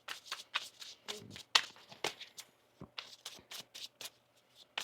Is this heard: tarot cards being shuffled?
yes